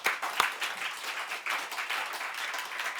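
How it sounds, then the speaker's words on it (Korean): A church congregation at a Korean Sunday harvest-thanksgiving service claps together in a steady, moderately distant round of applause lasting a few seconds, with no speech over it. "우리 다시 한번 감사와 영광의 박수 올려드리겠습니다"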